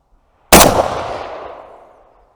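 A single loud rifle shot fired at a metal pipe target on an outdoor range, sharp crack followed by a long echoing decay of about two seconds.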